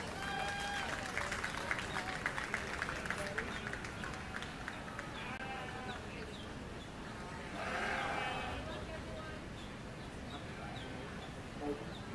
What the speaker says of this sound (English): Let's give all the exhibitors another great big round of applause